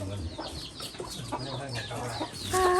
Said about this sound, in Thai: ไก่นะกระลุกกระลุกอย่างนี้